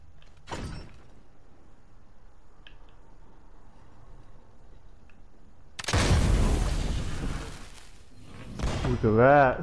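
A cannon shot in the video game Fortnite lands as one heavy, close boom with a roaring tail lasting a couple of seconds, after a softer thud at the start, and a voice speaks at the end.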